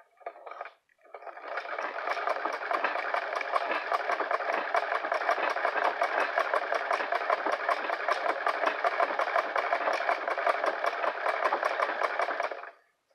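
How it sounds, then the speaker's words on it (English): Singer 237 treadle sewing machine stitching a double-thick woven seam on a blanket, a close, steady rapid clatter of needle strokes running continuously for about eleven seconds after a short start. "I'm going to use the treadle machine instead of the electric"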